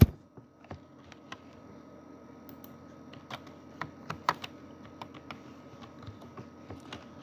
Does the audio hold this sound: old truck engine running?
no